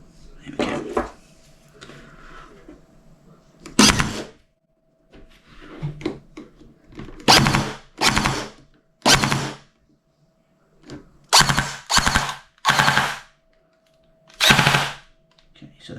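An upgraded P90 airsoft gun fires in several sharp full-auto bursts of rapid clattering shots, loud and close, separated by pauses with quiet mechanical handling between them.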